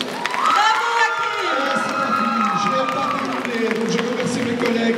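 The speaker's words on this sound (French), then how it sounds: "Et ça s'applaudit" A convention audience at a manga festival contest cheers and shouts over scattered applause, with a loud crowd roar and voices carrying through.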